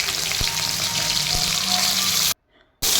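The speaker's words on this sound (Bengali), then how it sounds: "এবার শিমগুলি ভেজে নেব।" Green beans fry in a pan in a home kitchen, giving a continuous close sizzle with faint stirring, which cuts out briefly just before the end.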